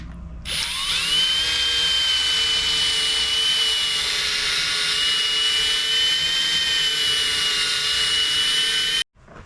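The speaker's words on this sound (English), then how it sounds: "I've done the 3000 grit polishing disc on it" A drill fitted with a 3M 3000 grit polishing disc whines steadily against a 2012 Ram headlight, spinning up sharply and holding a high, even pitch up close before cutting off abruptly near the end.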